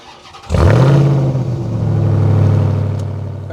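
A pickup truck engine cranks and catches with a sudden loud start, then settles into a steady, close idle that swells slightly.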